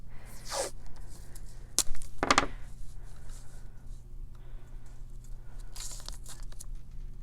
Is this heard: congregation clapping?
no